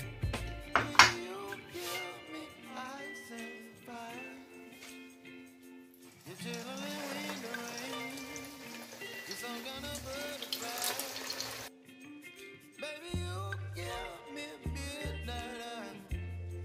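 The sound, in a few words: torrijas frying in hot oil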